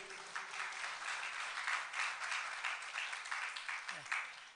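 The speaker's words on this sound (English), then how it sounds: "That applause sounds like a belated applause" Congregation at a Sunday morning service clapping together, a sustained moderate wash of many hands with a slight rise and fall, and a brief low sound near the end.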